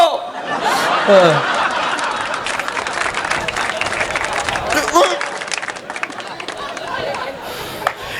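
Live audience at a comedy talk clapping and chattering, with bursts of laughter and chuckles mixed in, a fairly loud, dense wave of applause that thins slightly toward the end.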